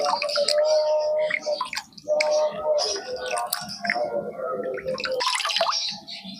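Mango pulp mixed with water is stirred in a bowl, producing continuous sloshing, dripping and swishing liquid sounds, close and fairly loud, with a voice speaking over parts of it.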